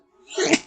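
A single close sneeze, building from a faint intake of breath into a sharp, loud burst that fades quickly, heard alone indoors.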